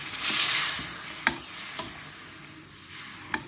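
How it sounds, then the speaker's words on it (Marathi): Katachi aamti broth sizzles and bubbles in a pot on the stove, a steady low hiss broken by a few sharp clinks of stirring. "कटाला उकळी यायला लागली साईड बाय साईड."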